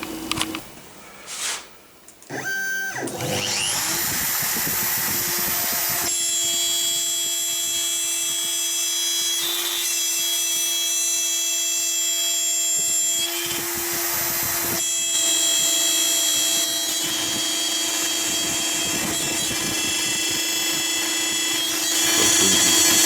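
A steady, high-pitched machine whine with a constant motor hum runs throughout, rising after a brief start-up, as an X-Carve DIY CNC router spindle mills a piece without pause.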